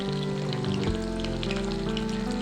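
Grated ginger frying in a pan over a low flame, for a Mandarin chicken dish, giving a steady, close sizzle that runs unbroken through the whole stretch with a faint tonal hum underneath.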